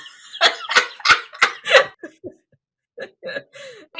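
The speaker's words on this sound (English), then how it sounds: "Immediately the cough goes back." A person recovering from COVID gives a run of five harsh, close coughs in quick succession, followed by a pause and several smaller throaty, hiccup-like bursts.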